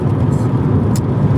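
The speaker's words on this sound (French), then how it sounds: "Désolé pour le bruit, je suis en voiture." Steady loud road rumble and engine drone fill the cabin of a moving car, continuous throughout with faint hiss from tyres and wind.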